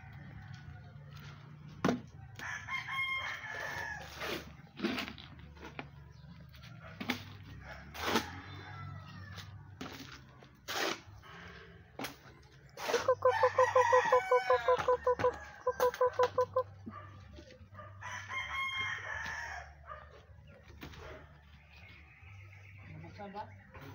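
Chickens cluck in a Davao backyard as they are fed, with a short burst of rapid, repeated calls standing out midway. People talk throughout, and a voice also imitates the clucking.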